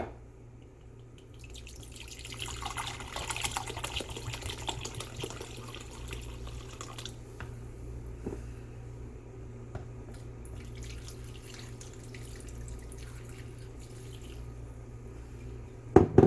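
A cup of tequila is poured for a watermelon margarita, a soft steady liquid trickle lasting several seconds, faint and close, over a low background hum, ending in a couple of small knocks.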